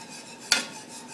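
Utensil scraping a pot while stirring a cream sauce for Polish stuffed cabbage, a single quick metallic scrape over faint kitchen background.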